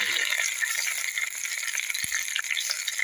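Ground masala tipped into a hot, crackling tadka while making samosa filling, giving a steady, loud sizzle of frying with a brief clink partway through and no talking.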